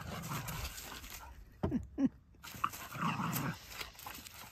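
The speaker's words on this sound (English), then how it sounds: "These silly dogs." Dogs scuffle and play at a distance, with soft panting, a few sharp yips and growly noises against a faint background hum.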